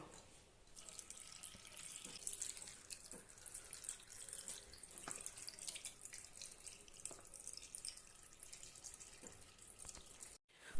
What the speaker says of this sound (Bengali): আগে এগুলোকে খুব ভালোভাবে জলে ভিজিয়ে নেব